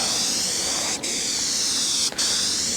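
Steady, loud hiss of an aerosol can spraying a coating, running nearly continuously, with two brief breaks where the nozzle is released.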